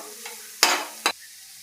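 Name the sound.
stirring vegetables frying in a pan on low gas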